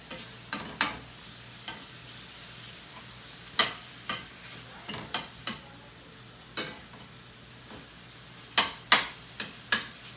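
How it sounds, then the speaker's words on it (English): A very thin steak sears in a pan on high heat, a low steady sizzle broken by a dozen or so sharp clicks and scrapes of a utensil against the pan, close and without talk. "Steak is still cooking. It's on high."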